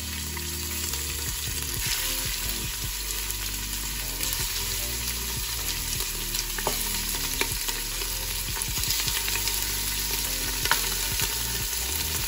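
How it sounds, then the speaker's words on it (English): Pork spare ribs brown in oil in a pot over medium heat for sinigang, a continuous close-up frying hiss with soft crackles and occasional stirring knocks. "I have a little bit of oil in the pot, and we're gonna brown it just a little bit. So we're gonna throw these pork spare ribs in there."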